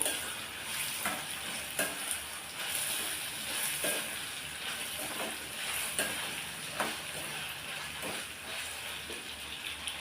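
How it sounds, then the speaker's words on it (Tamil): Tomatoes sauté in a pan for chutney with a continuous soft sizzle and hiss, punctuated by periodic scraping stirs, close and fairly quiet. "இப்போ தக்காளி ஓரளவுக்கு நல்லா வதங்கி வந்துருச்சு"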